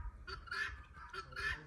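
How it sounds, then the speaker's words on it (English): A donkey brays at a ranch in Sonoita, Arizona, giving two close, raspy honking bursts with a short gap between them. "Is that a donkey in there?"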